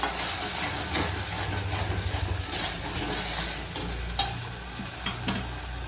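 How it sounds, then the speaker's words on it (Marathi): Spice masala frying in oil in a pan gives a loud, steady sizzle, with occasional stirring scrapes and clinks near the end. "तेल सुटेपर्यंत मसाला भाजायचा"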